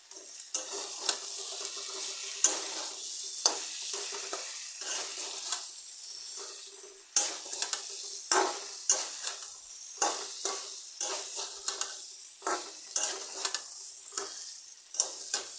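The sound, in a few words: sautéing okra, capsicum and potato on high flame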